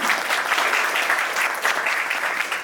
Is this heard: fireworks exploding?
no